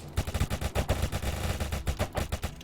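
Dense, continuous gunfire from a computer shooting video game, overlapping bursts of rapid shots and impacts with steady loudness throughout, no voices.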